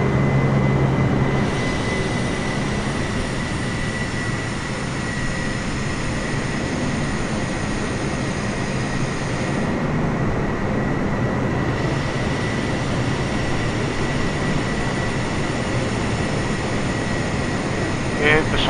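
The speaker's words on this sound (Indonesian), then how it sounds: "posisi take off di runway 25 di Bandara Soekarno-Hatta." Steady, loud cabin drone of a Garuda Indonesia airliner holding position for takeoff on runway 25 at Soekarno-Hatta Airport, a continuous engine and air-conditioning roar with a faint tonal whine throughout.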